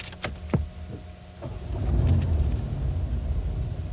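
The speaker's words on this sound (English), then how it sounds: "Go ahead and start it up and hear how quiet the engine is." A car's engine starts quietly after a few clicks and a key turn, settling into a soft, low, steady idle with no talking.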